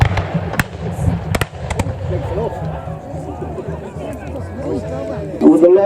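Musket shots crack out at a battle reenactment, several sharp reports in quick succession near the start, set against crowd chatter and someone talking throughout.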